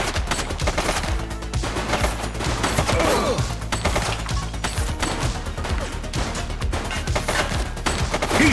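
A suspect opens fire in The Precinct police game: sustained, rapid bursts of gunshots rattle on loud and close for several seconds, layered with crashing impacts and dense action noise.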